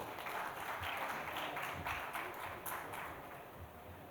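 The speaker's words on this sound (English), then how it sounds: "A huge round of applause for such an interesting session." Conference audience at INFOCOM 2024 in Kolkata gives a steady round of applause, a dense continuous patter of many hands, moderately loud and sustained throughout with no talk over it.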